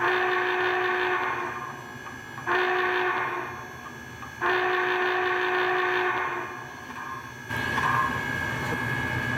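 An MTH HO-scale Big Boy model steam locomotive with Proto-Sound 3.0 sounds its whistle in three long steady blasts separated by short pauses, over a continuous background chuff and hiss.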